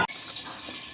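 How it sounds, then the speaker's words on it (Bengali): Water poured into a pot of chana dal for cooking, a close, continuous splashing gush that fills the whole second after a brief start. "জল দিচ্ছি পরিমাণ মতো,"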